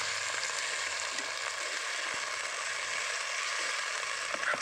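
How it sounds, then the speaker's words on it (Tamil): Steady, close sizzling of ginger-garlic paste and chopped tomatoes sautéing in a clay pot, a continuous hiss with occasional faint scrapes of stirring. "நல்லா வதக்கி விட்டுருலாங்க."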